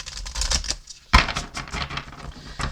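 Oracle cards from a Healing Spirits Oracle deck being shuffled by hand, a close, rapid flurry of papery riffles and snaps with one sharp tap in the middle.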